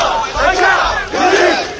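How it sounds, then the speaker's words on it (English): Large crowd at a protest in Sudan chanting slogans together in loud, surging rhythmic waves, close and dense, with no single voice standing apart. "Crowds chanted slogans from the Arab Spring revolutions of"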